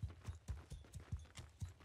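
A horse's hooves gallop in a steady, quick clip-clop rhythm, close and fairly quiet, in the medieval combat game Mount & Blade 2, with no talk over them.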